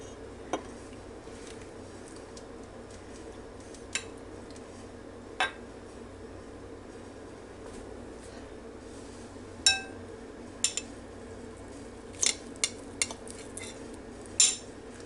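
Metal cutlery clinks and scrapes against a bowl while cutting through Italian meatballs, a handful of sharp, sporadic taps scattered over a quiet, steady background.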